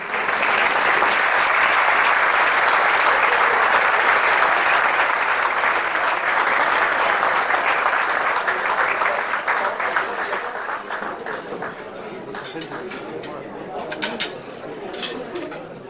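A Spanish-speaking audience at an award ceremony applauds loudly and continuously for an honoree, the clapping strong at first and slowly thinning toward the end.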